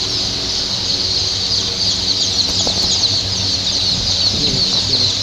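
Sonali grade A chicks fill a box with a dense, continuous chorus of high-pitched peeping, loud and close, with no talking.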